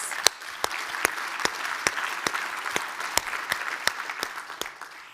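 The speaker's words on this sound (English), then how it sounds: "Let's give them a round of applause." A small conference audience claps steadily, with individual sharp claps standing out in a fairly even rhythm over a softer bed of applause.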